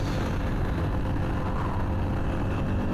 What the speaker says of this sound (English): I have a relatively loud exhaust on here